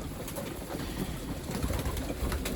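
Breeding pigeons coo in low, soft, continuous murmurs amid a busy loft, fairly quiet and with no voices.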